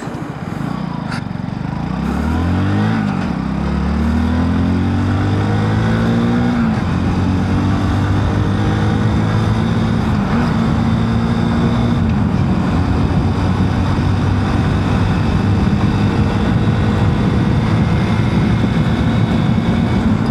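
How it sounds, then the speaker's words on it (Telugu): A 2025 Hero Passion+ motorcycle engine running smoothly while riding: a steady, loud droning hum that rises in pitch as it speeds up, then holds even, with rushing wind noise over it. "చాలా స్మూత్గా ఉంది ఇంజిన్ అయితే."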